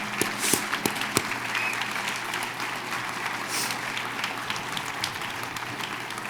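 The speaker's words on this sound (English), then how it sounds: "if you guys could give them a round of applause" An audience at a 2022 NIU Athletics Hall of Fame induction claps steadily, a dense, moderately loud round of applause with a few sharper claps standing out.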